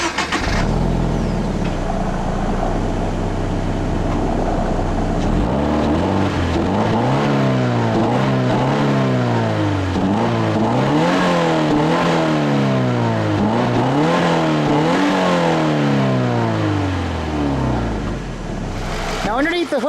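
Subaru BRZ with its 2-liter flat-4 boxer engine revving repeatedly, rising and falling in quick waves over a steady idle, loud and close for the whole stretch.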